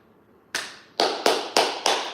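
Five loud, sharp hand claps close by, the first alone, then four more in a quick, slightly uneven rhythm, each with a short ringing decay; no talking.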